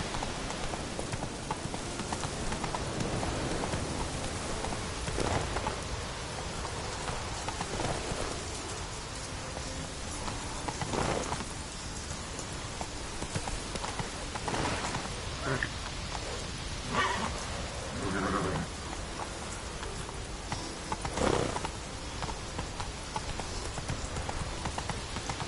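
Roach the horse gallops through rain in The Witcher III, hooves clip-clopping in a steady rhythm over a constant hiss of rainfall, with occasional louder bursts and faint rumbles throughout.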